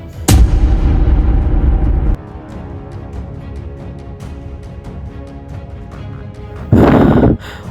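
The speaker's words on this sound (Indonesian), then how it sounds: "Untung saja Xiaohong itu tembak" Gunfire in the video game Sakura School Simulator: two loud booming blasts, one long sustained burst early and another near the end, with quieter sharp pops and clicks between them, close and harsh, no talking.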